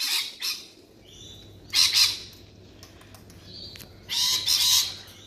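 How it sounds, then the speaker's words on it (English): Cockatoos and other birds at a morning feeder give harsh, raspy squawks in three loud bursts close by, with quieter calls and a low steady hum between them. "lots of noise and carry on this morning with all the birds"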